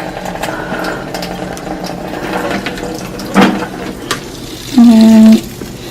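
Water runs from a kitchen sink tap while a houseplant is watered, a soft steady trickle and splash with a couple of louder clunks and a brief tonal squeak near the end, no talking.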